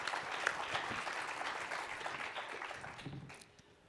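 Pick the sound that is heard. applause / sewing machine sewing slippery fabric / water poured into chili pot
applause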